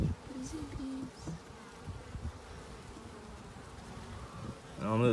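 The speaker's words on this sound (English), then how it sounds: "Busy bees." Honeybees buzz steadily and close throughout a beehive inspection, a dense low drone that swells louder near the end as the frames are handled.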